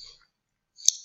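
A single crisp computer mouse click on a Proceed button lands near the end, close and quiet, after a faint tick and near silence.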